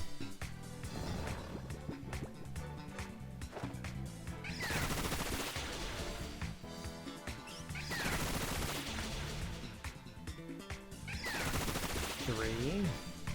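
Pokémon Bullet Seed attack in a video game: dense bursts of rapid machine-gun-like popping and crashing, loud and continuous with three surging waves and a rising whistling tone near the end, with game music underneath.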